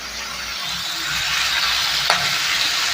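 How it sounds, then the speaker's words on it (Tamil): Chayote (chow chow) sautéing in a pan for chutney, a steady close sizzle and frying hiss with stirring throughout and one brief clink of the utensil near the end. "இப்போ காய் மட்டும் கொஞ்சம் நல்லா வதங்கி வரட்டும் சவ் சவு"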